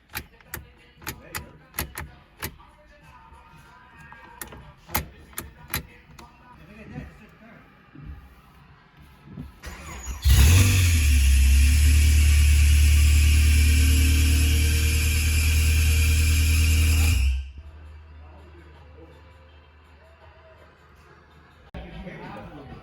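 A car being converted from automatic to manual transmission, just fitted after a seized alternator, gives a few sharp clicks and taps, then fires and runs loud and steady for about seven seconds before cutting out, with voices nearby.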